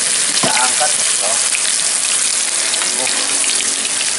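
Tilapia and snakehead fish fry in hot oil, giving a loud, steady crackling sizzle that fills the whole moment, with a brief voice and some clinks breaking through near the start.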